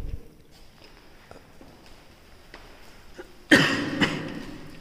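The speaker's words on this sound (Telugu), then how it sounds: "లోపలికి వచ్చినాక ఎందుకో దగ్గిచ్చి" A single sharp cough bursts out inside a reputedly haunted old royal chamber, a queen's room, loud and close after a few seconds of near-quiet room tone.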